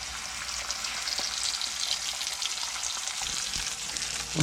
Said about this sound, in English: I'm just gonna, fry some spicy chorizo